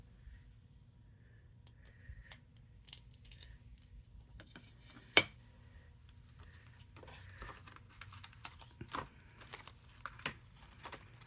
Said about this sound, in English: I'm just gonna cut it with scissors.